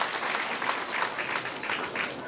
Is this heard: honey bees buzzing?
no